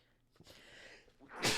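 A single sneeze bursts out loud and close at the end, after a few seconds of quiet breathing and a faint intake of air in a podcast conversation.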